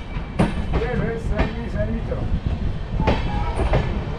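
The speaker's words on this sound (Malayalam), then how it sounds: "രണ്ട് ലോക്കോ ഉണ്ട് കേട്ടോ," The Netravati Express, hauled by two diesel locomotives out of Panvel, rumbles steadily with rhythmic wheel clatter and occasional metallic clicks, heard from on board with a voice briefly over it.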